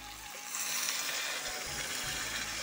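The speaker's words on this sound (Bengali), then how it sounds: "গরম জলটা দিয়ে দেবো একটু" Hot water poured from a vessel into veg paneer gravy in a pan, a steady broadband pouring wash that starts abruptly and runs continuously, close and fairly loud, with no talk.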